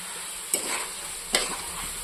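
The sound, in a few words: spice paste frying in a pan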